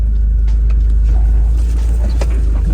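An off-road vehicle crawls along in two-wheel drive, low range, second gear with a loud, steady, heavy low rumble, close and continuous, with light rattles and patter on top.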